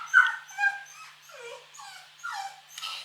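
A pet dog whimpers indoors at home in the evening, a series of thin, high, wavering whines in short bursts separated by quiet gaps, close and fairly soft.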